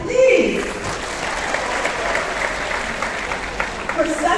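An audience applauds at a foundation laying ceremony for PA Sangma Medical, a sustained round of clapping with a brief voice at the start.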